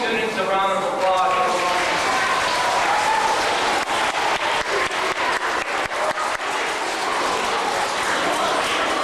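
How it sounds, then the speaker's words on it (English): An audience at a community event gives students a round of applause, a dense burst of clapping that swells and then thins out over several seconds. "Let's give all these students a round of applause."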